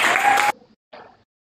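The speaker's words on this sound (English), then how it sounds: "Everybody give applause." Audience applause at a school class session, loud and dense for about half a second, then cutting off abruptly, followed by a short faint burst of crowd noise.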